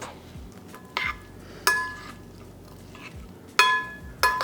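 A utensil stirs a salad of white beans and tomatoes in a bowl, giving several sharp, intermittent clinks spaced about a second apart over soft rustling of ingredients.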